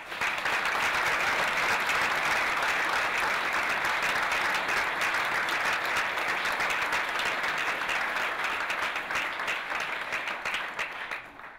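Sustained, dense applause from a lecture audience welcoming Professor Alf Adams to the inaugural Alf Adams Lecture, loud and even throughout before tapering slightly at the end.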